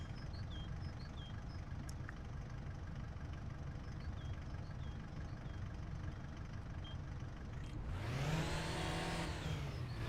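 A car engine idling steadily in My Winter Car, a low continuous rumble with faint clicks, then a rising whirring mechanical sweep swelling near the end.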